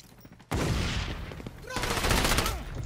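Bursts of rapid P90 submachine gun fire ring out in XDefiant multiplayer, loud and dense, with a sustained volley that stops briefly and then starts again. A voice is faintly present underneath.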